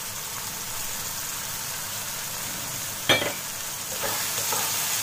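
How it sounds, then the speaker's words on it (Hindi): Ginger garlic paste frying in a pan with tomatoes for aloo keema masala, a steady soft sizzle running throughout, with one sharp stir or clatter near the middle and faint scraping afterward. "दो मिनट हम अदरक लहसुन के पेस्ट डालने के बाद भूनेंगे।"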